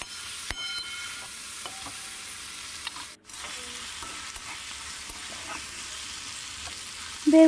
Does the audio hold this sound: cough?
no